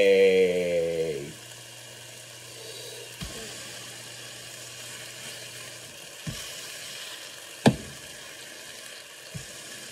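Bacon sizzles in a frying pan with a faint, steady hiss after a short tonal sound at the start, broken by a few soft knocks and clicks.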